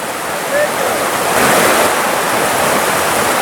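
A small waterfall on the Rose River in Virginia, a steady close rush of falling water, broadband and unbroken throughout.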